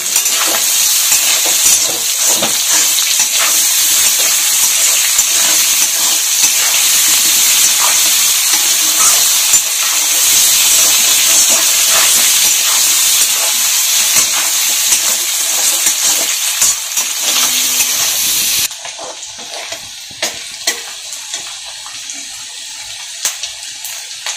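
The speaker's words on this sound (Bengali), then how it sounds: "এখন হালকা করে বাদামি কালার ভেজে নেবে।" Potatoes coated in turmeric powder fry in oil with a loud, dense sizzle and occasional stirring clatter for most of the stretch, then the sound drops abruptly to quieter crackling with sparse clinks.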